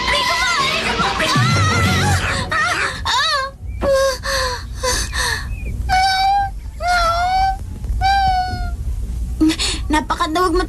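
A cartoon cat in an animated Tagalog-dubbed series lets out a string of drawn-out, rising meows, loud and close, after some gasping, wailing cries at the start.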